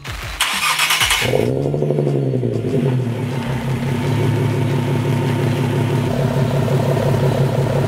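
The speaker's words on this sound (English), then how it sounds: "Sounding pretty good, idling not too crazy loud as of right now." A Nissan 370Z Nismo with an AAM resonated short tail exhaust cranks and catches, then settles into a steady, throaty idle with a low rumble, close and fairly loud.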